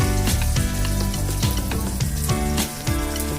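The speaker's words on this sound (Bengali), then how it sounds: "আমি এভাবে সব মাছগুলোকে এক এক করে আমি ভেজে নেব।" Pieces of snakehead fish fry in hot mustard oil with a loud, continuous sizzle. Sharp crackles and pops break through it throughout, close up.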